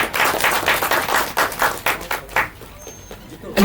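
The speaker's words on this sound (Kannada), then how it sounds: "ಅವ್ರಿಗೊಂದು ಚಿಕ್ಕ ಚಪ್ಪಾಳೆ ಇರಲಿ." Applause and clapping from an audience at a film trailer launch press meet, a dense burst of claps that gradually thins out and fades toward the end.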